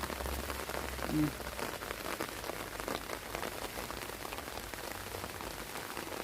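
Steady rain pattering on leaves and ground in a vegetable garden in Hungary, a continuous dense hiss with scattered drops, no voices.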